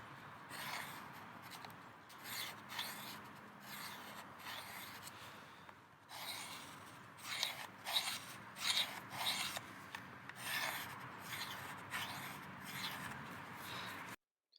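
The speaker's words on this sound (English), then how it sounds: "give it a few passes on the ceramic" A knife blade is drawn across the ceramic rod of a Work Sharp Guided Field Sharpener in a series of rhythmic rasping strokes, close and fairly soft, with brief pauses between passes.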